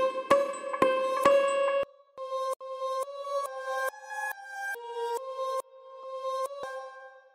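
A dark trap synth melody of bright plucked notes with a reverse sweep effect, attacks swelling in for a reversed, sweeping feel; the notes step up and down with short gaps.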